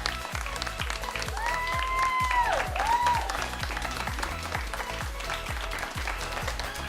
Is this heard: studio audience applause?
yes